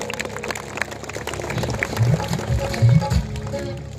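A church congregation at a Bodo gospel gathering claps hands, starting loosely and then swelling into a louder burst of applause mixed with crowd noise and voices.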